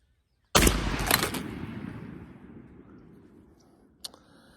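A single loud blast from a Browning 20 gauge shotgun firing Rogue TSS shot during patterning, with a sharp onset and a long decaying rumble, followed by a brief faint click.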